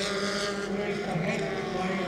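Formula 4 race cars with paddle-shift gearboxes make a short, steady snarl of engines running at speed, heard from a distance with some wind noise.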